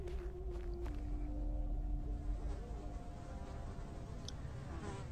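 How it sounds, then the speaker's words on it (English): Flies buzz around a pumpkin in the video game The Dream Machine, a steady insect drone that stays close and continuous for about five seconds over a low background hum, with no talking. "It has flies."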